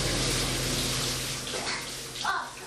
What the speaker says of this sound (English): starts each day with a blast of water from the shower